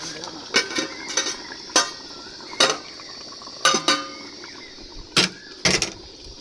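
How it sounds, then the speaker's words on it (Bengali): Chicken cooks in a pot at an outdoor picnic as a spoon clanks against the metal in repeated sharp scrapes and knocks, about a dozen spread unevenly over several seconds above a soft background hum. "আর এই যে আমাদের চিকেন রান্না হচ্ছে এখানে, আমাদের চিকেন রান্না হচ্ছে।"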